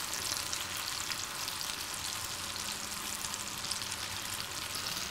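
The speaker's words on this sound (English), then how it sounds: "I am going to stir the apples now." Apples simmering over medium-low heat in a pan give off a steady, close sizzle and soft bubbling with faint stirring, holding an even level throughout with no voices.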